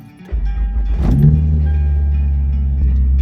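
An engine catches with a brief rising rev, then settles into a loud, deep, steady idle that drones on close by: a Toyota 2AR engine swapped into an MR2 Spyder.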